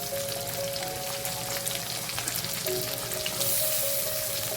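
Garlic, ginger and long green chili sautéing in hot oil for a Filipino fish bagoong, a steady, close, crackling sizzle with faint stirring scrapes and no talk.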